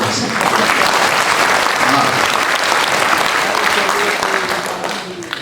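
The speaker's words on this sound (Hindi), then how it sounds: "बजानी है तो एक बार सारे बजा दो।" An audience at a Hindi comedy poetry gathering (kavi sammelan) bursts into loud, sustained applause that fills the space and fades slightly near the end, with some voices underneath.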